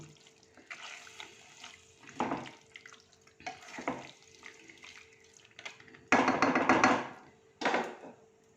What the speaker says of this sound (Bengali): এবার মাংসটাকে আমি ভালো করে কষিয়ে নেব।